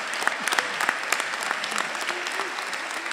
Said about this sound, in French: je veux qu'on l'applaudisse très fort